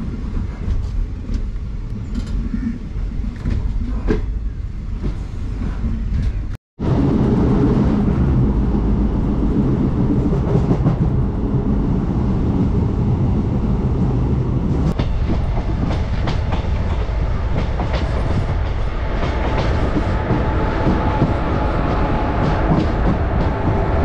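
Train 06602 Madgaon Special rolling on rails near Mulki railway station, a loud continuous rumble with clickety-clack wheel beats, briefly cut off once before resuming at full strength.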